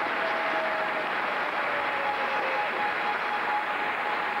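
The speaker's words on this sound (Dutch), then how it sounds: "En een geweldig applaus." Studio audience applause at a 1996 Flemish television quiz show, a steady, dense wash of clapping that holds at an even level from start to finish with no voices over it.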